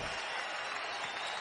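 Fans at a Boise State versus New Mexico basketball game applaud R.J. Williams in a brief, dense burst of steady clapping and crowd noise, with a commentator faintly underneath.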